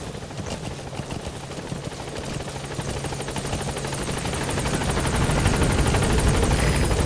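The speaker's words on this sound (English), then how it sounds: "Support helicopter has arrived." A support helicopter in the game Metal Gear Solid V arrives at a landing zone, its rotor chopping loudly and rhythmically and swelling steadily louder as it draws near.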